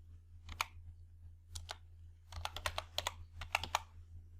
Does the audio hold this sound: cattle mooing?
no